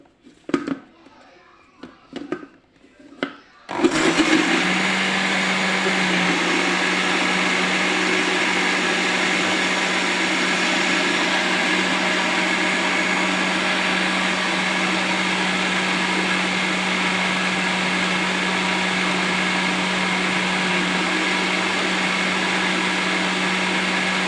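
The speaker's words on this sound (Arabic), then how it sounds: "نضرب بردك ده كله كده في الخلاط" After a few seconds of talking, an electric blender starts up on cupcake batter made with flour and oil, then roars steadily and loudly at an even pitch for the rest of the clip.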